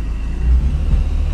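A BMW E46 M3's engine on a track pulls away slowly in first gear with a touch of throttle, a steady, loud low rumble held throughout with no voices.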